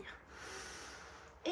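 A single soft, breathy exhale during a Pilates session, close and quiet, ending with a brief voiced sound.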